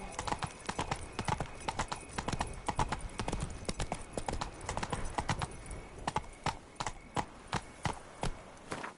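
Roach, a horse in The Witcher 3 video game, clip-clops in crisp, evenly spaced hoofbeats that stand out clearly against a soft ambient bed and speed up to a steady trot.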